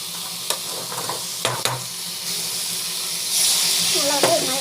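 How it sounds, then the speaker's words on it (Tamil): Ingredients sauté in a pan with a steady sizzle and a few sharp utensil scrapes and taps, growing louder and hissier toward the end. "நல்லா வந்து இது மாதிரி வந்து வதக்கிட்டுக்கோங்க"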